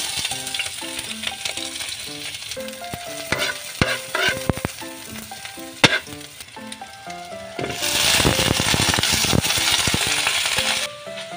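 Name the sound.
garlic being sautéed in an old frying pan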